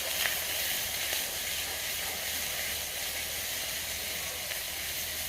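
Raw ground cumin paste sizzling in a hot pan as it is stirred for a baim fish curry: an even, close frying hiss throughout, with a few faint clicks of the stirring utensil and no speech.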